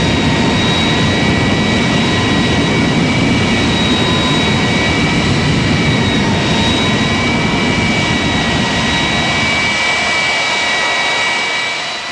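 A jet-powered drag racing car at the Bug Jam drag race fires its afterburners, producing a loud, sustained roaring blast with a thundering low rumble and whining high tones that fades slightly at the end.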